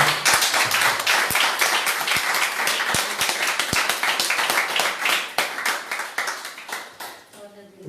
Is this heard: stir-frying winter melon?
no